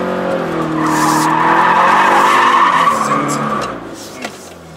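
A Toyota 86/BRZ drifts on a practice course, its rear tires skidding in a long, loud squeal with a wavering pitch over the engine's drone, then easing off near the end.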